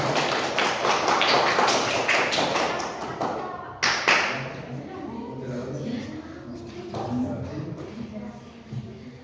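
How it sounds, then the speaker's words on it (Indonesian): Students in a classroom applaud a group coming to the front, a rapid burst of claps for about four seconds that stops abruptly, followed by a teacher talking and quieter room noise. "beri tepuk tangan untuk kelompok 1"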